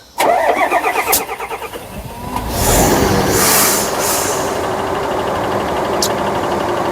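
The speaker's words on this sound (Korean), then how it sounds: "시동 완빵으로 잘 걸립니다" Hyundai Xcient 24-ton arm roll truck diesel engine cranking with a rapid chug, catching and surging to a roar before settling into a steady loud idle, with a short air hiss.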